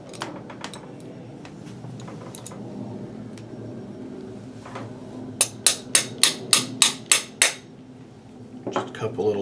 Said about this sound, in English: Just a couple little love taps with my soft grip screwdriver there